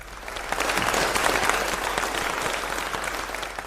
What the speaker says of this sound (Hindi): लेकिन भरपूर तालियां हैं।